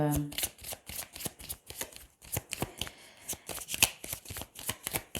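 Tarot cards being shuffled in quick, papery riffles and flutters, a steady run of crisp bursts close to the microphone with no talking.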